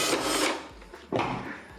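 Screws being unscrewed from a Philips Saeco coffee machine during a repair: close rasping scrapes of the screwdriver in two bursts with a short gap, no talking.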